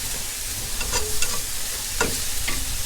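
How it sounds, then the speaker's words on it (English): Finely chopped small onion frying in a pan for a homemade quiche, with a steady close sizzle and a few scraping stirs around one and two seconds in. "just give that a stir"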